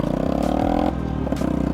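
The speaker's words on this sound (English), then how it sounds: "Oh, he's just done the biggest wheelie." Motorcycle engine revving hard as a rider pulls a big wheelie on the road, a steady loud drone with a pitch shift mid-way, heard close with some clattering wind noise.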